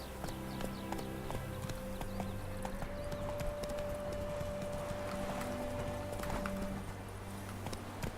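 Roach the horse in The Witcher 3 trots with steady rhythmic clip-clop hoofbeats over a continuous game soundtrack and ambient bed, moderately loud with a sustained tone running through the middle.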